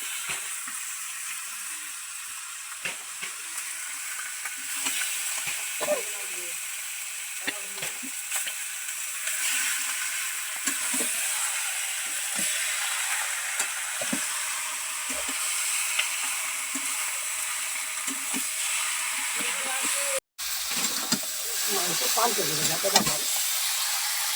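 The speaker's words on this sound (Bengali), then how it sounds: "ওখানে মশলা কষানো হচ্ছে, ক্যাপসিকামও দিয়েছে" Spice masala and capsicum being sautéed in a pan for a chicken dish make a constant bright sizzle, broken by intermittent scraping strokes of the spoon and a brief cut near the end.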